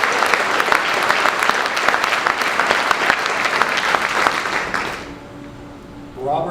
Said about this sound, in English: Round of applause for Charles Feaster.